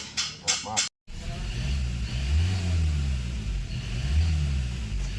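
A Ford Ranger engine runs steadily with a rough mid-range rumble after turbo repair, holding a loud sustained tone after a few short bursts of talk at the start.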